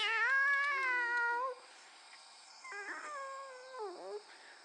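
Cartoonish cat meows from the Toca Boca video game: one loud, drawn-out meow, then a softer, wavering second meow after a short pause, with no talking.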